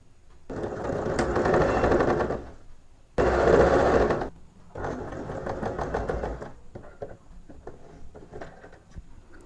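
Electric sewing machine stitching a petticoat waistband, running in three long bursts with brief pauses between, loud and close, with fainter clicks of handling at the end.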